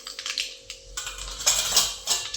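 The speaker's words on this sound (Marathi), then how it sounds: "छान तडतडली." Mustard seeds spluttering in hot oil in a kadhai while tempering dal, giving quick irregular crackles and sharp pops close by, with no voices.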